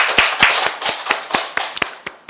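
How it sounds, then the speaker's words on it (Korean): A church congregation at a Christmas worship service claps in a burst of sharp, loud hand claps, loosely rhythmic and close, fading slightly toward the end with no voices over it. "하나님께 감사 박수 올리겠습니다."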